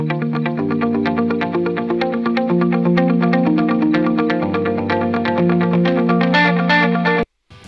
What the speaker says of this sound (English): So you could hear there's definitely some delay, and that is a dotted eighth delay.